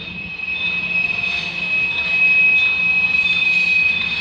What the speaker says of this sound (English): It's 4 o'clock and finally there's a freight train, eh?